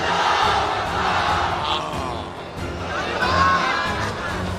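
Large crowd at a political rally chanting the slogan Nara-e-Takbir: a dense, continuous roar of many voices shouting together, loud and sustained throughout.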